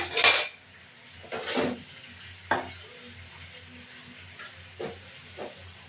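A spoon scrapes and clanks against a pan of fish head curry with bottle gourd and greens, several separate stirring knocks over a faint sizzle, close and fairly quiet.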